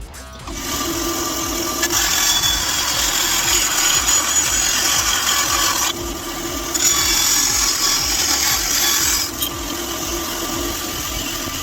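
A hand saw cutting through the plastic magwell of a Retaliator toy blaster, a loud, continuous rasping stroke rhythm close by, with two brief pauses between bursts of sawing.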